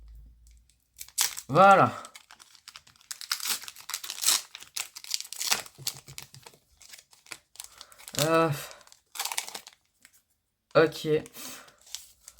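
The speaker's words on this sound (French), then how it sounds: "nous allons ouvrir les 2 boosters de Pokémon Go en espérant d'avoir des cartes qu'on n'a pas" Two Pokémon Go booster card packs being torn open, with close crinkling and tearing foil wrappers in short bursts between stretches of talking.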